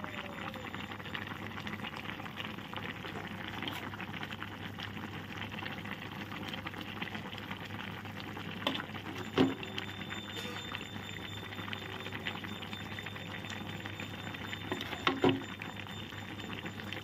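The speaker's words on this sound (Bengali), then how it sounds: "আস্তে আস্তে দেখো ফুটছে" Bottle gourd greens curry with steamed lentil fritters simmering in a pot, a steady low bubbling and soft patter throughout with a couple of faint clinks, no talking.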